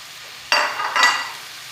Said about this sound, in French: Je vais d'abord les faire revenir un petit peu quelques minutes.